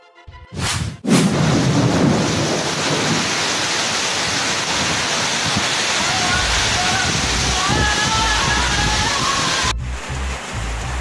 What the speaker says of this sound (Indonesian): Hujan es Singkariang. Singkariang hujan es.